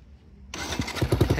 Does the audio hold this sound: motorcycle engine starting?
yes